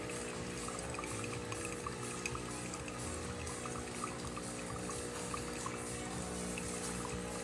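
Water flowing in a steady stream from the spouts of a repaired Saeco espresso machine, a soft continuous trickle over the machine's low pump hum, quiet and close.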